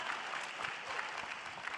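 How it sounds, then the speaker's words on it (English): Steady, continuous audience applause at an LCS Spring Split Finals esports event, a dense wash of many hands clapping from a crowd filling the whole stretch without a break. "We'll get a round of applause for that one."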